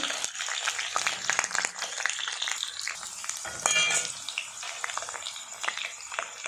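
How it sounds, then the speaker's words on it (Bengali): Potatoes fry in hot oil in a kadai, giving a close, bright, crackling sizzle with bursts of spattering and stirring, steady throughout with no talking. "আমি কড়াইতে আলুগুলো দিয়ে দিয়েছি, একে একে আমি ভালো করে ভেজে নিচ্ছি আলুগুলো"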